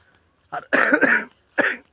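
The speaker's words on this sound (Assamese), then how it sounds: "এটা কাহ উঠি গৈছে" Two close, sharp coughs, a brief first burst followed by a longer harsh one, then a third short cough after a pause.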